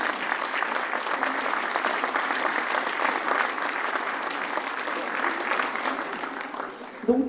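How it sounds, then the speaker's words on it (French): An audience at a New Year's greetings ceremony in Valdoie applauds fourth- and fifth-grade schoolchildren, a dense, steady sustained clapping that holds evenly at moderate volume for several seconds before trailing off. "je vous demande de les applaudir"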